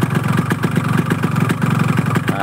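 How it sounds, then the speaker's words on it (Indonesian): A Yamaha RX motorcycle engine idles up close with a harsh, rhythmic knock from the connecting rod riding on a fast, steady two-stroke beat, loud and alone. "Sekarang suara setang yang paling kenceng."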